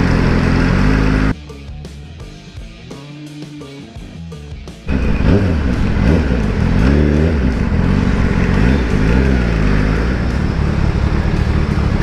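Kawasaki ZX10R motorcycle fitted with an M4 muffler being ridden: loud, constant engine roar with wind rush, dropping to a quieter, lower idle-like drone for a few seconds before the roar returns at full strength.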